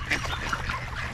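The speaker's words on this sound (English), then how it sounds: "Oh, poor duck." Hungry ducks at Lake Mead in Las Vegas quack repeatedly in a busy cluster, several overlapping calls close by over outdoor background noise.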